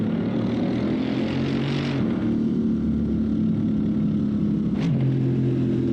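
Mercedes SLS engine and exhaust in the racing game Assetto Corsa, a steady droning roar held at speed, with a brief rising whoosh near the end.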